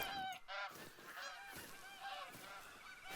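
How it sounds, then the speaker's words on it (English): Geese honk repeatedly in the video game theHunter: Call of the Wild, a fairly distant flock giving rapid, overlapping nasal calls in an early-morning outdoor setting, with no talking. "there's one geese landed right there"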